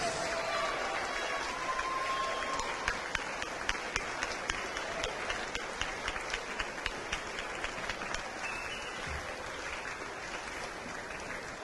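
Applause in a university basketball arena honoring student athletes at a game, steady crowd clapping with sharp, rhythmic claps standing out near the front, sustained throughout.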